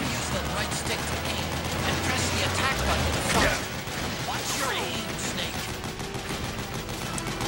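Machine gun fire from a mounted gun in Metal Gear Solid 4, a dense rattling barrage of shots with crashes and mechanical clatter, loud and continuous, with speech-like game sounds mixed in.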